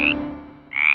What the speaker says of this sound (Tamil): அப்பொழுது அந்த குளத்தில் ஒரு தவளை இருப்பதை பார்த்தது.